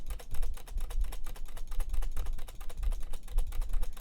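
Fingers tap rapidly on a computer keyboard during Stardew Valley play, a close, brisk run of light clicks in uneven bursts with short pauses, no voices over it.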